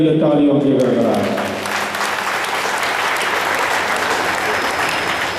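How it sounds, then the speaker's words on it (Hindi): An audience at a Hindu spiritual discourse bursts into loud, sustained applause. A voice speaks briefly over the opening before the clapping carries on alone as a dense, steady roar. "सब एक दूसरे के लिए तालियों की गड़गड़ाहट"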